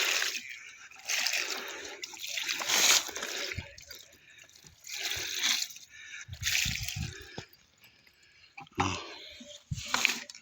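Water poured over six rooted bamboo seedlings, splashing and trickling in uneven bursts with short pauses between pours, close by and moderately loud.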